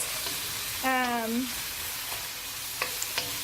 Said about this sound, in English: So I'm going to continue to fry these for just about a minute